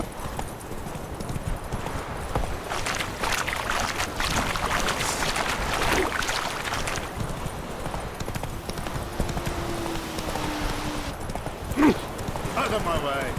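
Roach the horse gallops through The Witcher 3, hooves clip-clopping in a fast, steady rhythm close by, with voices and ambient game sounds mixed in at times.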